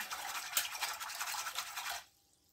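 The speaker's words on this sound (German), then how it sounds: "Löse mit einem Schneebesen die Hefe im Wasser" Fresh yeast is whisked into water in a bowl, a quick scratchy whisk rattling steadily for about two seconds before stopping abruptly, close and fairly quiet.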